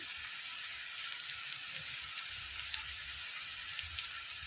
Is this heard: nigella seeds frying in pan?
yes